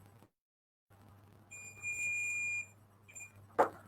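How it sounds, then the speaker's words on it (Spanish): A multimeter in diode mode gives a steady high-pitched beep of about a second when its probes touch, then a short second beep, both under a low background hum in a repair setting for a split inverter air conditioner. "que cuando yo uno las puntas van a sentir un bip."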